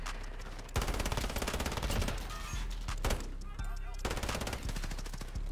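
Rapid automatic gunfire from the shooter game Modern Warfare, including a Finn LMG, crackles in dense, loud, near-continuous bursts with brief gaps, while a player's voice speaks faintly underneath.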